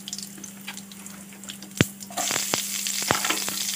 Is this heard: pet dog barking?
no